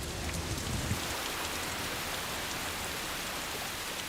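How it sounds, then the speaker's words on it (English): Heavy rain falling on the wet side of the island of Kauai, Hawaii, a dense steady hiss of drops striking surfaces, close and unbroken, with no one speaking. "Over 450 inches of rain can fall on this side of the island of Kauai every year"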